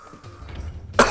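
A single sharp cough bursts out close to the microphone near the end, after a quiet stretch of low background noise.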